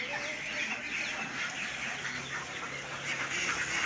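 Chickens and chicks at a poultry farm for egg production, a continuous dense chorus of cheeping and clucking from many birds, moderately loud and steady throughout.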